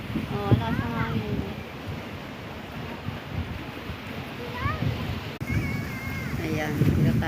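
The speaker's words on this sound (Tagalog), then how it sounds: "lakas ng hangin. Lakas ng alon oh." Strong wind and surf along the Jeddah Corniche seafront make a steady, loud rushing roar that swells toward the end, with voices talking over it throughout.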